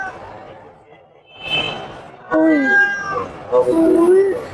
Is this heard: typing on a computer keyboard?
no